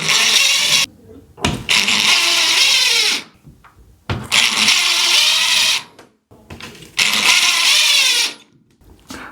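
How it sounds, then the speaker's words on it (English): A power drill bores holes for wall anchors to mount a retractable clothesline, three loud sustained whirring bursts separated by brief pauses, close by. "we will go ahead, drill, hammer in our anchors"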